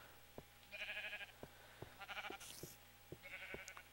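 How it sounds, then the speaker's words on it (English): Sheep bleating in a video game, several short bleats at intervals with thin clicking game sounds in between, moderately loud and without talk. "more sheep."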